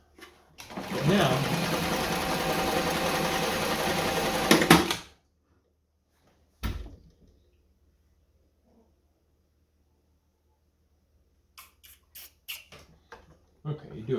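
Singer 237 Fashionmate sewing machine darning, a fast, loud, steady mechanical whir for about four seconds that then stops abruptly, followed by a single thump and later a few scattered clicks and taps.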